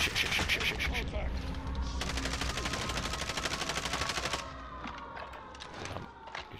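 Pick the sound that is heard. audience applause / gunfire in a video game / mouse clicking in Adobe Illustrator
gunfire in a video game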